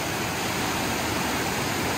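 Waterfall on the Tumbling Waters Trail at Carter's Lake in Ellijay, Georgia, heard as a steady, loud rushing roar of falling water that fills the whole clip with no talking.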